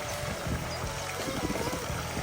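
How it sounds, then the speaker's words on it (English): Water splashing and pouring in the Triton and Dryads fountain in Regent's Park, a continuous bright rush close by with faint low murmurs beneath. "What a nice place to sit and listen to the water."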